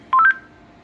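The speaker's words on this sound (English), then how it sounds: "Hitting buttons on my microphone on accident." A short burst of three or four rising two-tone DTMF beeps from accidentally pressed buttons on a radio microphone, quick and clear against quiet background.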